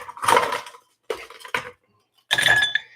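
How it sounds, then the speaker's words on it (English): Ice cubes clink and rattle against glass as they go into a mixing glass for a Negroni, followed by stirring, in three short close bursts separated by brief silences. "So now we're just going to go ahead and add some ice and go ahead and stir this down."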